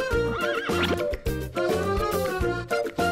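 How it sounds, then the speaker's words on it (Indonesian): A Bima horse, also called a bonsai horse, gives repeated loud, close neighs and whinnies in quick succession with short gaps between calls. "Aku adalah kuda Bima atau biasa disebut kuda bonsai."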